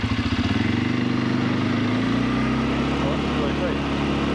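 A CFMoto CForce 500 ATV engine runs close by during a tight turn. It throbs in a steady low rumble at first and then settles into a smoother idle-like drone. There is no clear talk.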